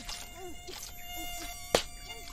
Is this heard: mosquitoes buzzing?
yes